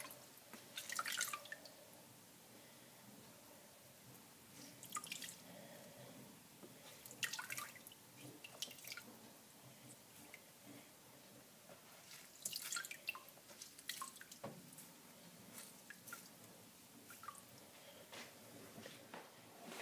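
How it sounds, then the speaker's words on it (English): Water drips and trickles from a gently squeezed wet wool piece in irregular bursts over twenty seconds. The sound is quiet and close, with soft splashes and no talking. "just kind of squeeze really gently. Get out as much of the water as I can."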